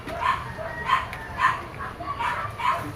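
A dog barks in a steady series of about six short yips, evenly spaced and moderately close, over faint background noise.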